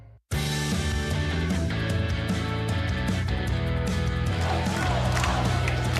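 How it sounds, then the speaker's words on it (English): At a college baseball game between Iowa and Nebraska at Duane Banks Field, a stadium crowd chants "Let's Go Hawks" and claps, loud and continuous throughout. "Breaking out into a Let's Go Hawks chant"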